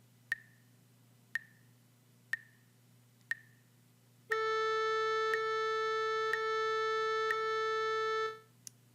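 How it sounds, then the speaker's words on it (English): Four evenly spaced short tones a second apart, followed by four sustained note onsets at the same steady quarter-note pulse of 60 beats per minute, clear and alone with no talk. "quarter notes at 60 beats per minute sound like this"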